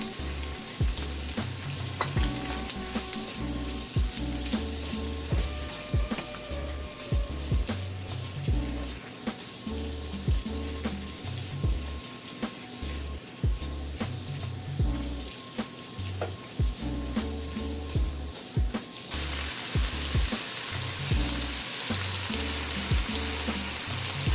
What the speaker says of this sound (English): Now we're going to add in 2 cloves of garlic. I'm going to cook this for about 1 to 2 minutes.